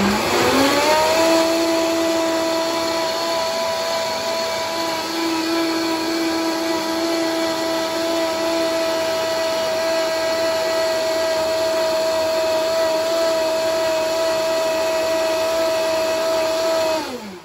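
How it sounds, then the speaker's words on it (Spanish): A blender on high speed purees cooked vegetables and garlic for a healthy vegetable soup, a loud steady motor whine with a sharp start and an even drone that runs alone for the whole stretch before cutting off. "Solo eso vamos a licuar ya."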